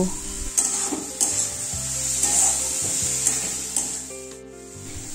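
Chopped tomato with salt is stirred in a frying pan for bhindi posto, with repeated rhythmic scrapes of a spatula against the pan over a continuous close sizzle, while a low hum runs underneath.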